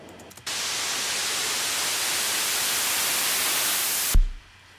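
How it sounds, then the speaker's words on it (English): A white noise riser in digital audio production, swept upward by an auto filter, roars as a loud, steady hiss for about four seconds before cutting off with a low thump. "the effects chain of the white noise and we find our auto filter here, which is doing the big sweep of the noise up"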